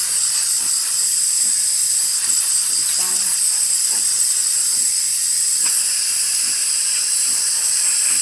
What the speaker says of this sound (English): Nice steady steam.